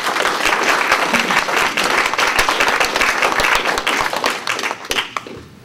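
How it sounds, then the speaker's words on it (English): An audience at an art gallery talk at San Diego Mesa College applauds, a dense, steady clapping that stays loud for about five seconds and then tapers off abruptly at the end. "So let's give him a round of applause."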